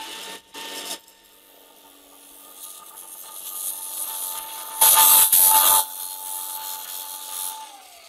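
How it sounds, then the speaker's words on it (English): An angle grinder grinds down the protruding feet on an electric unicycle board, a Begode Master under repair after a small fire, with a loud close whine in bursts that peaks midway, no voices. "So I just take the angle grinder,"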